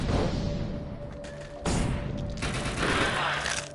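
Bursts of gunfire from the video game Defiance on PS4, with several sharp volleys and thumps in quick succession, loud and close, with no talking.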